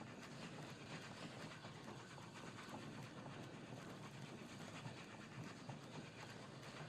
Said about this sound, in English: So now what I can do, back this train up.